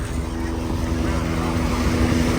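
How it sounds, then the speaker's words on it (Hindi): A rescue helicopter flies over Jesolo beach in Italy, giving a steady, continuous droning hum of engine and rotor that holds fairly loud and even throughout, over a wash of open-air beach noise. "ये देख लें हेलीकॉप्टर।"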